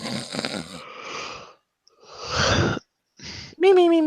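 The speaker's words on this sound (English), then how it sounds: "you can hear him snoring every once in a while" A man snoring in intermittent bursts, a few separate nasal snores with pauses between, close by and fairly loud, with some voice-like sounds mixed in.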